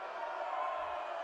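A crowd at a high school volleyball game cheers in a steady, loud wash of voices that holds for about a second, with no clear single shout standing out.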